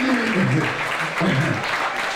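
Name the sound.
audience applause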